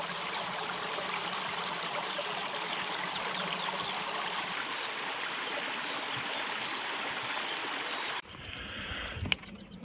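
A river stream in an Irish national park flows in a steady, broad rush of water that continues until a sudden drop near the end, leaving quieter outdoor sounds and a brief knock.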